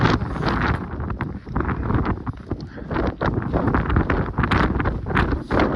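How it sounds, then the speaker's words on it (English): Strong wind on a mountain trail on Mount Whitney, buffeting the microphone with loud, continuous gusty roaring and rumbling that surges and dips throughout. "Yeah, it's windy on this side."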